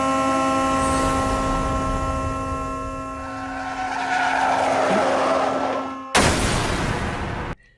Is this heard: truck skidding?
yes